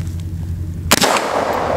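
A single sharp rifle shot from a 5.56mm rifle with a 16-inch barrel firing Barnes 62gr TSX ammunition, loud and close, cracking out after a moment of quiet background hum.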